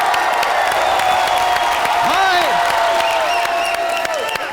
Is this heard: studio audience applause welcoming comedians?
yes